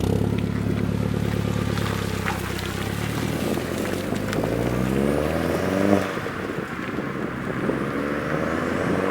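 A Volkswagen Polo GTI driving on Northumberland roads, its engine note a steady close drone that rises and falls through gear changes under constant road and wind noise.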